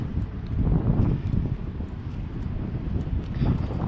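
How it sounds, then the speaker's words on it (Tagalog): Strong wind buffets the microphone in continuous low gusts, swelling and easing, with no other clear sounds. "Malakas ho yung hangin."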